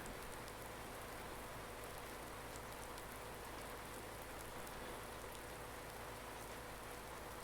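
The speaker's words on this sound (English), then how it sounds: "The good news is I can plant in the rain" Rain falling in Farming Simulator 19, an even, unbroken wash of droplet hiss with a faint low hum underneath.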